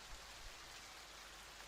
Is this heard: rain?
yes